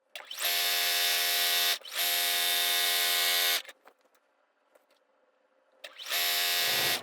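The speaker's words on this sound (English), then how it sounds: "So just do a little back stitch at the beginning and end of your seam." Sewing machine back-stitching a quilt seam, running in loud, steady mechanical bursts of rapid stitching, with two long runs, a quiet pause, then another run starting up.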